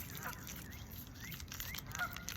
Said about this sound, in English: that goose is barking at me